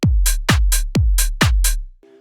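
A UK garage drum groove of booming kicks, sharp claps and crisp hi-hats placed between the kicks and snares, punching in a steady, loud, dry pattern for two bars before a faint tonal tail.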